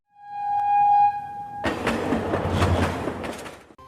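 Train running on a rail journey, a loud sustained horn blast at first, then the rumbling clatter of the moving train continuing on its own.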